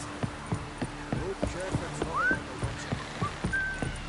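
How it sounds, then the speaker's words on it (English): Horse hooves clip-clop in a steady, fairly close rhythm inside a seafaring video game, with a brief whinny-like rising tone and a whistle-like call over the top. "Horses."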